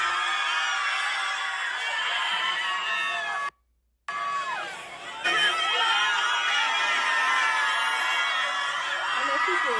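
A concert crowd cheers and screams for a marriage proposal, a bright, dense wash of shouting and excited voices that cuts out briefly before swelling back at full strength.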